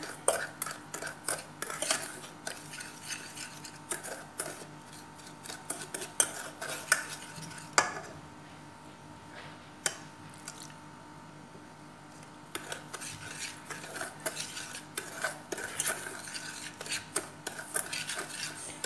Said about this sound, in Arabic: كنخلطو ثاني دور الفلفل